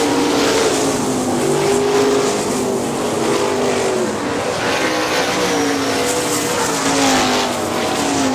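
410 sprint cars roar continuously around Hartford Speedway Park in Michigan, engines droning and surging as a pack passes, loud and close with no pauses.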